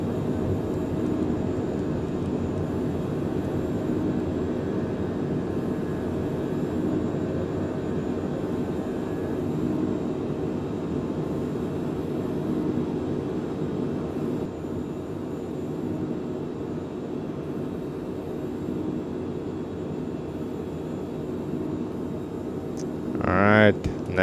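A flight simulator plays a steady airliner engine roar through takeoff roll, rotation and climb, holding loud and continuous, with a brief sharp rise at the end.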